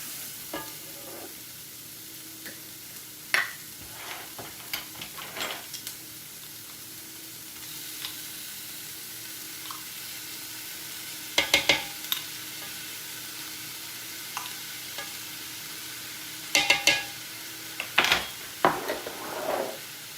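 Onions and garlic sauteing in a pan over lowered heat, a steady soft sizzle with intermittent scrapes and clicks of stirring that sharpen into brief clusters now and then.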